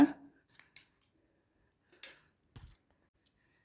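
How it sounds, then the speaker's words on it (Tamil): Snips of scissors cutting through the cloth of an old nightie, a handful of short, close, crisp cuts spaced irregularly with quiet gaps between them. "அப்படியே கட் பண்ணி எடுத்துக்கலாம்"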